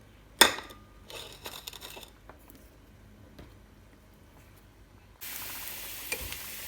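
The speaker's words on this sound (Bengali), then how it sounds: "তো রসুন মরিচ ভালো করে নেড়ে নেড়ে ভেজে নিতে হবে" Garlic, onion, chili and black cumin fry in a little oil while being stirred, giving a quiet sizzle with soft scraping stirs and a sharp clink near the start, then a steadier, brighter hiss toward the end.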